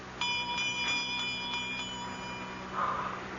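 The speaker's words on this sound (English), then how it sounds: "I'm trying to see where that bell came from" A small bell rings in a radio drama, a thin repeated metallic tinkle with a steady high tone, faint and somewhat distant, struck several times before fading into quiet room noise.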